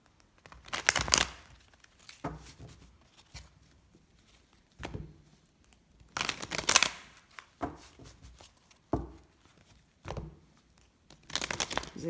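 Tarot cards shuffled and drawn, giving a few short, soft bursts of riffling and slapping card stock separated by quiet gaps, close by and fairly faint.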